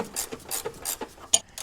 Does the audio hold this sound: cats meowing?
no